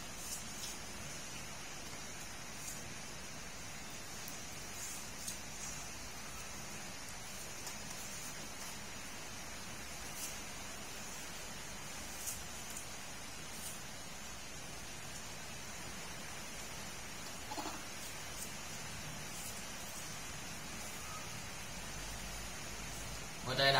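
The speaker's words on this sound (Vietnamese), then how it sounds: "Đây đám mưa rất là to nha mọi người." Heavy rain pours steadily as a continuous broadband hiss through the whole stretch, even and fairly close, with a few faint background knocks and no talk over it.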